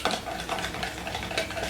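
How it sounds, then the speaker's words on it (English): Dip ingredients, including Dijon mustard, are whisked together in a bowl. A quiet, steady swishing and scraping of the whisk runs throughout at close range, and nobody speaks. "I'm gonna go ahead and whisk these up together."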